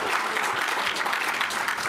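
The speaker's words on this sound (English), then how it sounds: "Give them a round of applause for those first ones" A dense, continuous round of applause from the crowd at a startup accelerator pitch showcase, loud and even throughout the short stretch with no talking over it.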